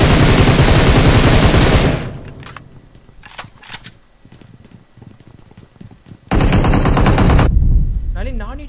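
Gunfire in the mobile battle-royale game PUBG Mobile, with loud sustained automatic bursts at the start and again later, separated by quieter stretches of scattered shots and game noise.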